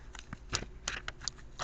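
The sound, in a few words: shuffling tarot cards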